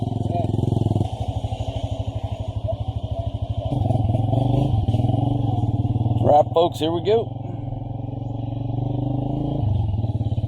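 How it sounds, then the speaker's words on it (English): Motorcycle engines putter and idle close by, then rumble as the bikes ride off, with someone talking over the steady engine chug. "we are rolling on the motorcycles, headed up to the drop-off point"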